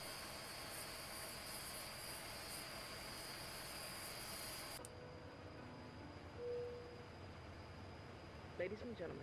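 Majestic Dash 8 Q400 turboprop engines run in the Prepar3D flight simulator, a loud steady whine and roar that cuts abruptly to a quieter hum partway through.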